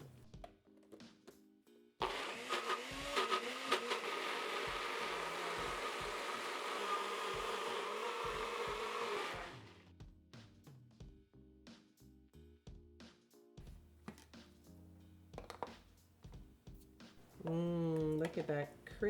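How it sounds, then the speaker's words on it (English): A kitchen blender purées cooked pumpkin, roaring loudly for about seven seconds before stopping, with thumps and handling noises before and after and a voice near the end. "Let's puree this pumpkin"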